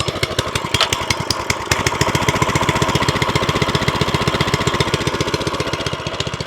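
VEVOR 6.5HP plate compactor engine firing up and settling into a steady, rapid, loud chugging idle, close by and alone.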